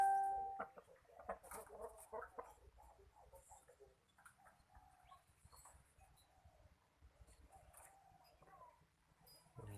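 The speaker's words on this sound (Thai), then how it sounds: "นี่จะเป็นไก่ตี" A fighting rooster (gamecock) clucks faintly in a rain-soaked, flooded garden farm plot, with soft scattered calls and rustling against a quiet outdoor background.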